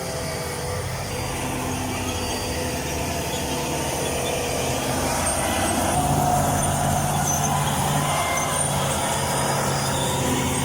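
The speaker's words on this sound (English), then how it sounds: "Deep mud brought a timber-loaded Volvo to a complete stop." A heavy Volvo truck loaded with timber strains in deep mud while being pulled free, its engine giving a loud, continuous rumble with a faint rise in the middle and no voices.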